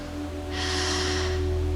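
A single slow, audible inhale through the nose during a guided meditation, rising softly and holding steady over a low constant hum.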